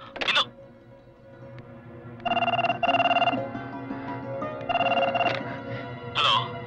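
A telephone bell rings in a dramatic Telugu film scene: two clear double bursts of ringing rise over a quiet room hum, with brief clicks and breathy noises before and after.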